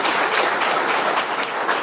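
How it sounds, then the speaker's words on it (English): Graduation audience claps steadily for performers, a dense wash of many hands applauding throughout at a close, even loudness. "let's still just clap hands for them anyway."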